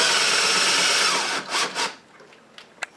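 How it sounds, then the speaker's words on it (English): A screw driven into a molly anchor in a wall to mount a coat rack, a short whirring drive that tapers off, followed by a few faint clicks and taps. "So we're just going to screw it down."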